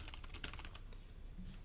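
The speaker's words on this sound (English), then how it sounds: "I'm not sure how live this keyboard is on this microphone" Rapid clicking keystrokes on a computer keyboard, picked up faintly by a microphone during a coding session, with a busier burst of typing early that thins out toward the end.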